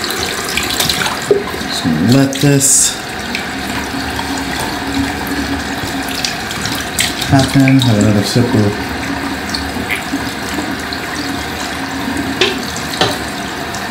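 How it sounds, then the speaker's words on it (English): A bathroom tap runs steadily into a sink, a continuous splashing hiss with faint clinks, as someone talks over it in two short bursts. "so I turn the water down just a little bit"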